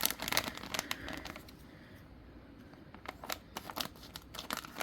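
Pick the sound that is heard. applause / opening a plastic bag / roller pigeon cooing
opening a plastic bag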